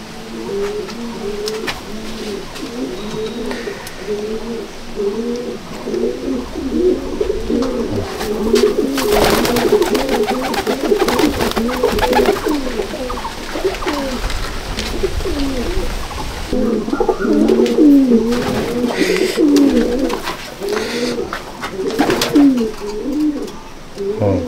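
Kalanka pigeons with pink bars and pink beaks coo in a loft, a continuous chorus of rolling, throaty calls from several birds, close and moderately loud, with a few scuffs and bumps now and then.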